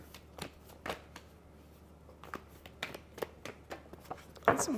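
A tarot deck is shuffled by hand in a quiet room, giving a string of crisp, irregular riffling clicks and slaps, close and fairly soft, ending in a louder flurry.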